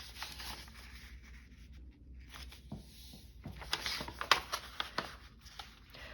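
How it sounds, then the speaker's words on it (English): Paper creased and folded by hand for a Valentine origami piece, soft crinkles and sharp creasing strokes that grow busier and louder toward the end, close and quiet with no talk. "now we're doing the sequence of the low dot, folding the corners, and the high dot, folding the corners, and we'll fold everything"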